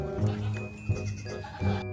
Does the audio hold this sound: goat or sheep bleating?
yes